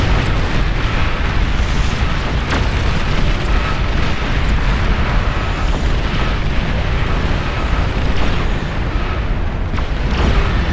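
Nuclear explosions in the strategy game Beyond All Reason roar as a dense, continuous wall of loud rumbling blasts with scattered sharper bursts, sustained throughout without any speech.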